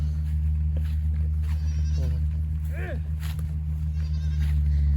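Goats bleat in several short, wavering calls as they are let out to graze in an open field after a long spell penned up during a storm, heard over a strong steady low drone.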